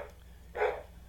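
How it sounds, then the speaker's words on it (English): Dogs in Stardew Valley give a single short bark, fairly close, over a quiet background hum. "The dogs are barking like crazy."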